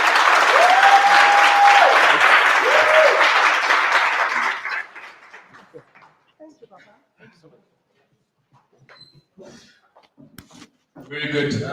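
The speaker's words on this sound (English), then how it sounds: "So let's give Ntwaki a resounding round of applause." A workshop audience in Atteridgeville gives a full round of applause, loud and dense for about four seconds before fading into near silence. A speaking voice then begins at the very end.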